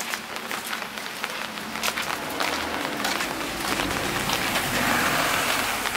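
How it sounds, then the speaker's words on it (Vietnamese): Rain falls steadily on a vegetable garden, a dense close hiss of drops spattering on leaves and ground, growing slightly heavier. No voices. "Mưa quá, ướt quá."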